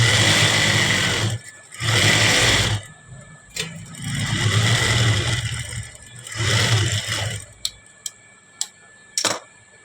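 A sewing machine stitches a blouse sleeve in bursts, several runs of fast whirring stitching separated by pauses, followed by a few sharp clicks and taps near the end.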